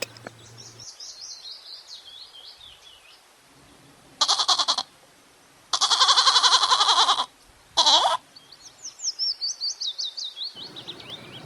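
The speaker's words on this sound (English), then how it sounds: "G for goat." A goat bleats in several loud, wavering cries, close by, with bird chirps trilling before and after.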